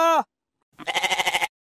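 A cartoon donkey brays in a bleating, stuttering run of about eight quick pulses lasting under a second, loud and close, after a short high voiced sound at the start.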